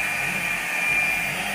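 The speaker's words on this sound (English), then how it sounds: "Just running the Spindle program" CNC machine spindle driven by a VFD, a steady high-pitched motor whine running continuously without change, close and even, no talking.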